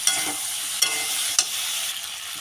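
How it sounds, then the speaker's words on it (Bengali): Continuous sizzling of vegetables in a pan broken by three sharp utensil scrapes spaced about half a second apart as mustard paste is stirred in; no talking. "এবার এই পেস্টটা এখানে দিয়ে দিলাম একটু হালকা করে নাড়াচাড়া করে নেব"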